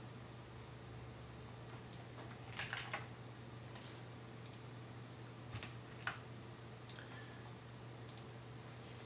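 Scattered computer keyboard clicks and key presses while cutting and pasting Python code, faint and sparse over a low steady electrical hum in a quiet room.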